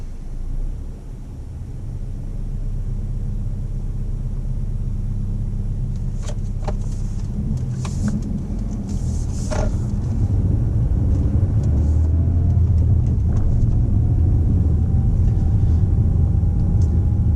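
A car moves off and drives along a road, its steady low engine rumble and road noise continuing throughout, with a few faint clicks and a rising tone near the end.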